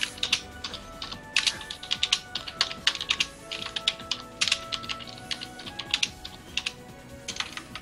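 Loud, fast typing on a computer keyboard, close and crisp, with rapid irregular bursts of key clacks and brief pauses, no speech.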